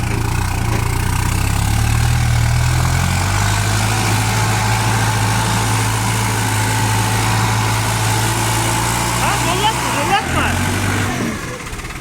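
A loader's diesel engine runs steadily close by at a low idle-like drone while it works clearing animal manure, with people talking over it and a brief rise near the end.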